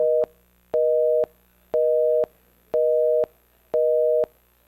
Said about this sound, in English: when you pick up a phone and no one's there, also known as the busy signal